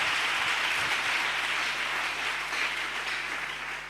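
A church congregation applauding in praise, a broad steady wash of clapping and crowd noise that stays even, then fades slightly, with no clear speech over it.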